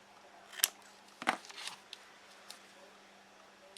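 Scissors trim paper in a few quick, crisp snips with short pauses between them, close and quiet in a still room.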